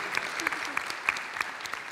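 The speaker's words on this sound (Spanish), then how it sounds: "un aplauso, así me gusta." An active audience at a wellbeing forum claps, a brief burst of applause with distinct sharp hand claps standing out over the general clatter.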